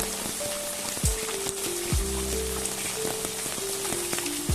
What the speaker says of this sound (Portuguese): A chuva agora afinou um pouquinho.